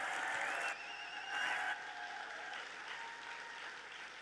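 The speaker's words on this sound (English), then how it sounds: "Let's give her another big round of applause." An audience applauds a pageant contestant, with sustained clapping that continues steadily at a moderate distance and without speech over it.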